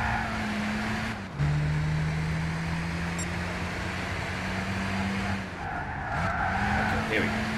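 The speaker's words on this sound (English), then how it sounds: "Ah, the tire squeals." A race car's tires squeal in a long skid in the Gran Turismo 6 racing game, a sustained screech over the steady engine drone, easing off and briefly returning near the end while a player talks over it.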